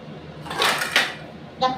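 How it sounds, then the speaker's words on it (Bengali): A plate picked up in a home kitchen gives a couple of brief close clinks and rattles of crockery, then a short ringing knock near the end. "একটা প্লেট নিয়ে নিই।"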